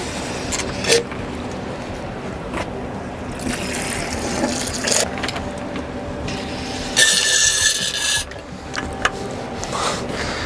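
Hand pump sucking coolant out of the coolant tank on a 2024 Mustang Dark Horse, giving gurgling, sputtering liquid-and-air slurps with a harsh burst near the end, fairly close.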